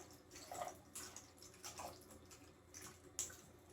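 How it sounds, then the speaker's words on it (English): Lemon and cucumber infused water poured in short, quiet trickles and drips into an ice tray, faint and intermittent with no voices. "I'll take my ice tray. I'm just going to pour it in here."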